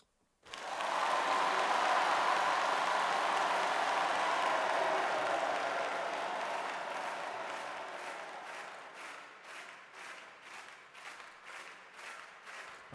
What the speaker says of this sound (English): Let's have it do 16 bars of crowd claps.